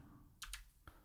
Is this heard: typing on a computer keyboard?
yes